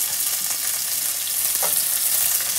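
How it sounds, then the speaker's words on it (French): Onions sizzling and frying in a pan with a knob of butter, a steady close hiss that runs the whole time with a brief crackle partway through, and no one speaking. "je vais ajouter les oignons"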